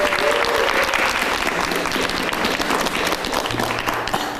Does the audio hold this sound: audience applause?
yes